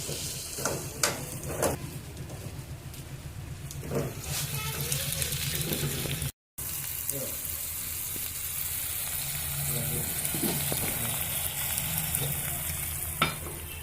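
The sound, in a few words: potato curry frying with ginger paste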